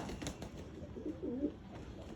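Pigeons bathing in water give soft low cooing calls, a few murmured coos in the middle over a steady background of splashing and ambient noise, fairly faint and close.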